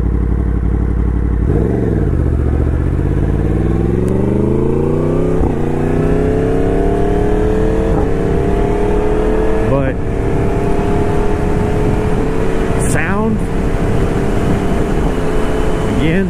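A 2023 Yamaha MT-10 motorcycle accelerating through several gears, its engine note rising in pitch, dropping at each shift and climbing again, loud and close against steady wind rush.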